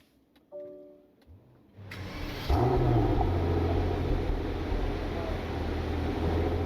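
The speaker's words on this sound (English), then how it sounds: "And there's that twin-turbo V12 that has awoken in a very modest fashion" A Mercedes-Maybach S 680's twin-turbo V12 starts up after a few quiet cabin clicks, catching with a brief swell then settling into a smooth, low, steady idle heard from inside the car.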